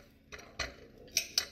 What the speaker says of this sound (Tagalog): Ito mga maliliit na to, kailangan hiwain ko na